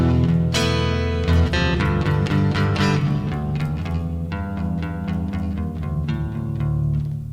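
Guitar playing a riff, a repeating single-note pattern with a watery, modulated chorus-like tone, picked notes ringing steadily at moderate loudness with no talking.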